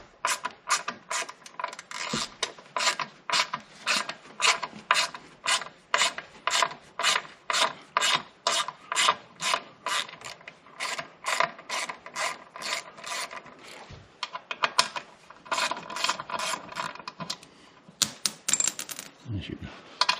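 Torx 30 screws being worked loose from the panels of a Can-Am Canyon three-wheeler, a long run of quick, regular ratcheting clicks up close, with a couple of brief pauses and a little talk.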